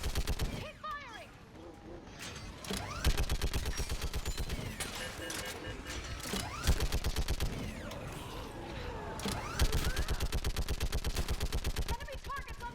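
Rapid automatic gunfire rattles through a firefight in Mass Effect 3, dense repeated bursts with short pauses between, loud and close, with talk and other combat sounds underneath.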